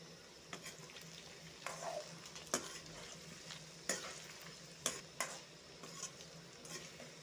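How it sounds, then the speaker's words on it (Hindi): Taro root (arbi) frying in a pan, a quiet, steady sizzle with scattered crackles and stirring clicks, heard alone without talk. "अरबी को मैं 5 मिनट फ्राई कर लेंगे"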